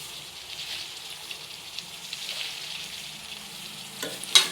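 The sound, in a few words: cut vegetables frying in pan for curry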